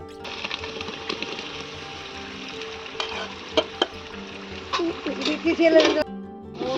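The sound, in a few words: frying mint and coriander leaves in a pan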